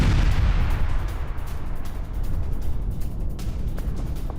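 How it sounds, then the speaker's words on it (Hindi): Heavy bombardment on Beirut and surrounding areas in news footage, a dense, continuous rumble of explosions and low booms with crackling bursts, loud and unbroken throughout, no talk over it. "बेरूत समेत 4 बड़े इलाकों में भयंकर बमबारी, ये देखिए जरा।"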